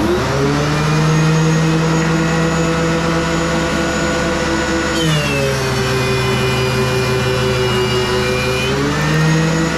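A DeWALT DW735 planer drones loudly up close while planing walnut, its steady motor whine dipping in pitch around midway as the cutter takes load, then recovering, with no voices.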